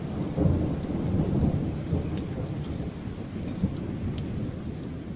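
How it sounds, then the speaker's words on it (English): A severe thunderstorm with huge hail: continuous heavy rain and a deep rumbling roar of thunder, steady and enveloping, with no voices. "There was one person injured in Wyoming from the severe weather and also just some huge hail."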